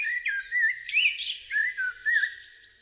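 Melodious bird song made of clear whistled phrases in distinct strophes, several short bright strophes repeating with brief gaps, fairly close and alone without any talk.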